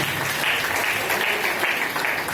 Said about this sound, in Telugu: ఒక మారు ప్రభువును కనపరిచి నిమిత్తం అందరం చప్పట్లు కొట్టి ప్రభువును కనపరుచున్నాం